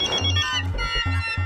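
A mobile phone ringing indoors in a sitcom scene, a repeating electronic ringtone melody with pulsing tones, loud and close, with no voices over it.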